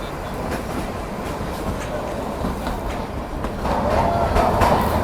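The Shimla-Kalka toy train runs on its rails in heavy snowfall, a steady rumbling roll with rhythmic clickety-clack of wheels and a faint squeal toward the end, loud and close, with a little talk in the background.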